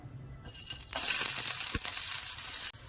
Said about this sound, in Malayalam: ഇനി വട്ടത്തിൽ ചെറിയ ചെറിയുള്ളിയും കൂടി ഇട്ട് കൊടുക്കാം